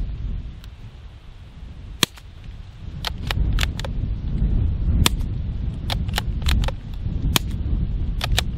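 Suppressed Savage B22 rifle firing 40-grain Aguila subsonic .22 rounds at steel targets: about a dozen sharp, quiet cracks in an irregular string, most followed by a faint ring of the steel, over steady outdoor background noise.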